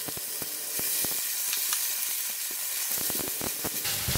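Blended ginger paste hitting hot oil with browned garlic in a pan, a loud continuous sizzle and hiss with scattered pops and stirring scrapes, close up and without speech.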